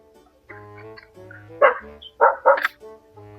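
A dog barks close by in a few sharp, loud yelps, with a steady low hum and faint tonal sounds underneath.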